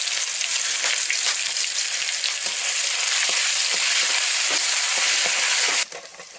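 Dry red chillies, bay leaf, whole spices, garlic paste, chopped onion and tomato frying in a pan, making a loud continuous hiss and crackle with faint stirring taps, cutting off abruptly near the end.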